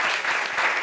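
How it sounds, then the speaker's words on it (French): An audience claps in a dense, even burst of applause for adoptive families at a reunion, loud and close and continuing steadily through the whole short stretch. "il faut applaudir ces familles adoptives"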